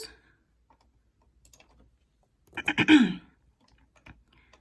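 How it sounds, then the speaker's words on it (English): A short burst of rapid typing on a computer keyboard, a quick cluster of clicks after near silence, with a few faint isolated taps around it. "let's say I'm just typing gobbledygook."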